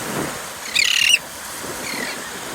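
Bird at sunset lets out one sharp, harsh squawking call, fairly close and brief, followed by a fainter echoing cry against quiet outdoor background.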